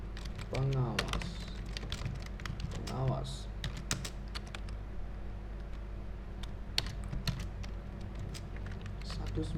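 Typing on a computer keyboard while configuring subnet addresses, a steady patter of quiet close key clicks with a few sharper taps, running under a voice talking throughout.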